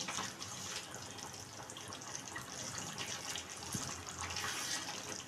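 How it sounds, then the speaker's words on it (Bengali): Faint, steady splash of a small amount of water poured into chicken in a cooking pan while making a Bengali coriander chicken dish, a soft continuous gush with no talk. "অল্পই জলটা দেব যেহেতু এটা আমি একটু কষা কষা করব সেই কারণে অল্পই জলটা আমি দেব"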